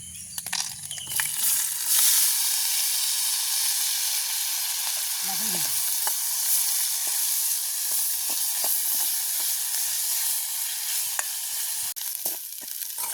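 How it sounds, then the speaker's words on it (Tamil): Onions sauté in a pan over a village cooking fire with a constant, close sizzle and hiss. Occasional stirring scrapes and clicks run through the steady frying, and no one talks. "எங்களுக்கு நல்ல வெங்காயம் வதங்கிட்டு நல்லா நாங்கள் இனி வதக்கி எடுப்போம்."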